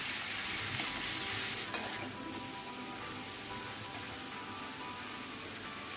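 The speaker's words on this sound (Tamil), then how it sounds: "கருவேப்பிலையும் கொத்தமல்லியும் கொஞ்சம் லைட்டாக வதக்கிக்குவோம்." Curry leaves and coriander sautéing in a pan for vathakku chutney, with a steady hissing sizzle and light stirring that is loudest at first and then settles to an even, continuous frying sound.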